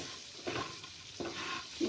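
Small crabs sizzle in hot oil in a pan on a gas stove, a constant close frying hiss broken by a few scraping stirs of the spatula.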